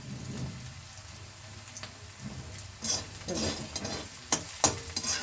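Onions frying in a pan while being stirred, with a crackling sizzle and irregular scraping stir strokes up close that grow busier toward the end.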